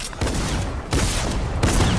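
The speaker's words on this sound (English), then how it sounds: "Oh, I'm getting shot." Dense video-game gunfire in a Fortnite-style Storm Wars match, a sustained loud fusillade of rapid shots with two sharper bursts standing out, no talking.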